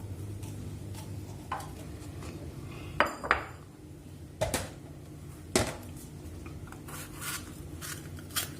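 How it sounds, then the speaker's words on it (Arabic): A knife cuts peppers and scrapes out their seeds in a home kitchen for cold harissa, making scattered sharp knocks and clicks against a board over a quiet background. "احنا دلوقتي هنقطع الفلفل زي ما انتوا شايفين كده، هنطلع منه البذر"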